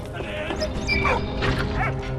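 A dog in the war video game Valiant Hearts: The Great War gives a few short, loud barks and yips over a busy game soundtrack.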